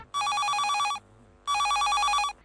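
A telephone ringing for a radio phone-in call: two bright electronic trilling rings, each about a second long, separated by a short pause, clear and close with no talk.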